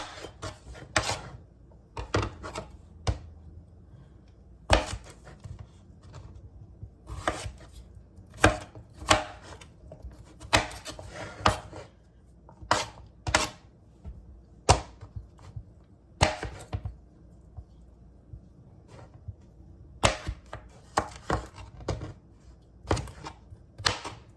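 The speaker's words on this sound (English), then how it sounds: "I'm just going to cut these into bite-sized pieces, just like so." A knife chops red potatoes into bite-sized pieces on a cutting board, sharp irregular thunks in bursts, close and clear with no talking.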